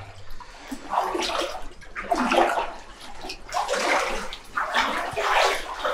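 Legs wade through murky water in a flooded limestone mine tunnel, sloshing in four or five rhythmic close surges, each a broad swishing splash with brief quieter pauses between steps.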